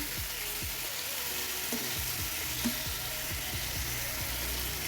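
Paratha frying in a pan at home, a steady loud sizzle of oil running throughout with a few soft scraping and stirring knocks, close and continuous with no voices.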